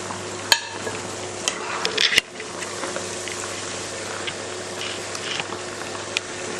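Mutton pieces frying in hot oil for mutton karepak, then lifted from the pan: a steady close sizzle runs throughout, with a few sharp clinks and scrapes of a utensil against the pan.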